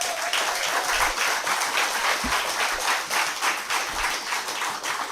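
An audience at a certificate ceremony claps in a steady, moderate burst of applause, fairly even and sustained throughout, with a few louder individual claps standing out.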